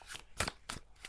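Tarot cards are shuffled in quick, soft riffling bursts, three or four short papery flicks close by at low volume with no talk.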